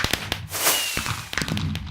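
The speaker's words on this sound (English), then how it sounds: "Alright, lots of fireworks today." Minecraft fireworks go off close by: a whistling launch, then a sharp burst with crackling pops and a few quick snaps.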